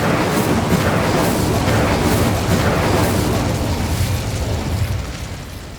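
A fire spell explosion cast in the Hogwarts Legacy video game, a loud, dense continuous roaring burst that holds steady for several seconds and then slowly fades.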